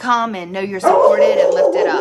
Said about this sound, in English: that's my dog, and he barks every single time that a pig or somebody walks by